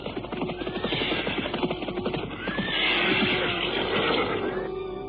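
Horses neigh and whinny loudly while hooves clip-clop in a steady rhythm as riders travel through the night in a radio drama, with the neighing growing fuller toward the end.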